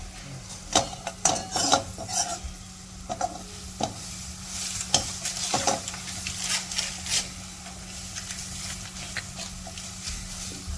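Butter sizzles in a pan while red garlic chutney fries, a continuous close crackle under irregular scraping and rubbing strokes of a spoon, with no voices.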